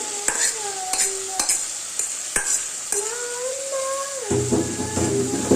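Boiled chickpea dal is tipped into a pan with green chillies and stirred for bhuna khichuri, giving a soft sizzle with sharp spoon scrapes and clatter at irregular intervals, then a denser frying hiss near the end.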